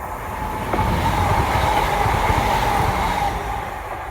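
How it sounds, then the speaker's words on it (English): A train rolls past on a railway line, a steady rumbling roar that swells up from quiet, holds for a few seconds, then eases away, heard from trackside outdoors. "We've got another train going past as well"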